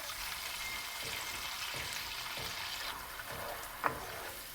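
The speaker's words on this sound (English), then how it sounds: "See how the tomato melts away in the oil and it fries up?" Steady hiss and crackle of tomato frying in hot oil over high heat, with occasional soft scrapes of stirring and one brief sharper clink near the end.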